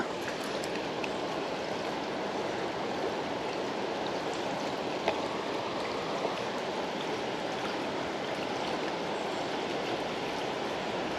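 Strong river current rushes past at a bass fishing spot, a steady broadband wash of moving water heard close and continuous with no talking.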